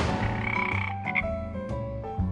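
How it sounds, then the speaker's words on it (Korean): A frog croaks in a rapid, rattling series of calls, fairly close and clear, with no talking over it. "정답은 바로 개구리야."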